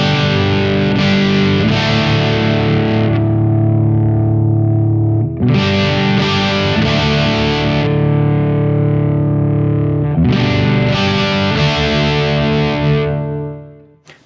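Electric guitar through a Tone City Wild Fro overdrive pedal at a slightly higher gain setting: thick, loud distorted chords ring out in three sustained strums that fade at the end, with no talking.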